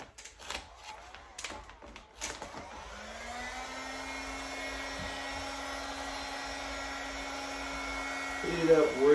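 Heat gun blowing steadily on vinyl wrap over a Dodge Challenger rear bumper, a continuous airy whir with a faint tonal hum, starting after a few knocks and handling clatters and rising slightly toward the end.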